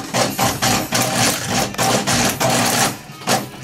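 Leather being stitched on a sewing machine while approaching a corner, steady rhythmic mechanical chattering in several loud close bursts separated by brief pauses, with no talking.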